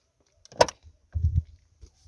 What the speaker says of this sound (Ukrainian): Ось так відкриваються, закриваються наші двері для Жигуля.